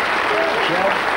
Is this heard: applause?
yes